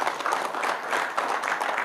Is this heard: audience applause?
yes